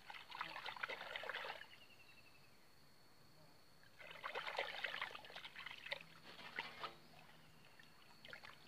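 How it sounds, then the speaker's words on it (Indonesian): Sugarcane molasses poured into a fermenting cow-manure mix: two faint, soft trickling pours separated by a quiet pause, with low background hiss. "Kemudian kasih tetes tebu secukupnya aja teman-teman."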